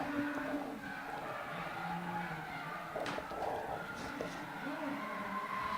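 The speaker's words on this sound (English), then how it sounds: "let's go back up to Adam Chaplin out there in the SCRX7" Mazda RX-7 drift car of about 530 horsepower at a pro drifting qualifying round in Tauranga, tires skidding and engine roaring through a sweeping corner, heard at a distance with a commentator talking over it.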